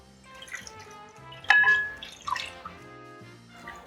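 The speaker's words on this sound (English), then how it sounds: "cover your chicken with just enough water" Water pours over chicken seasoned with salt and pepper in a cooking pot in a vintage-style kitchen, giving close splashing and dripping with a couple of louder gushes, with no talking.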